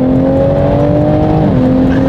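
A JB4-tuned Toyota Supra engine hums loud and close at a steady drone, then its pitch shifts partway through as the car downshifts.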